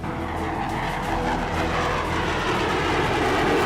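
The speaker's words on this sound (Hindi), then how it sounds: "ये सुरमई रंग का विमान इजराइल का F-15 फाइटर जेट है।" An Israeli F-15 fighter jet roars loudly and steadily, a broad continuous engine rush that builds slightly and never lets up.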